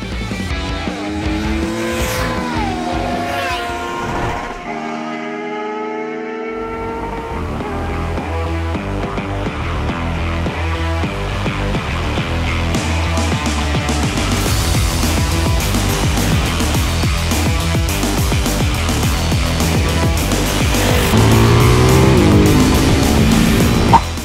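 A Ducati Hypermotard 698 single-cylinder motorcycle ridden hard on a kart track, its engine loud and close, rising and falling through the gears with sharp revs and a brief lull, then climbing to a louder sustained pull.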